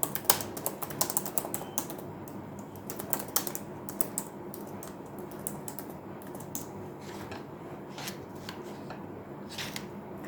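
Someone types code on a computer keyboard in quick, uneven bursts of crisp clicks with short pauses between, close and fairly quiet, with no talking.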